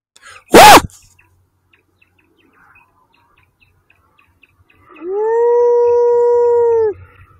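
A coyote hunter gives a single long, steady howl that imitates a coyote, loud and close in an outdoor setting. A sharp, brief burst comes several seconds before it.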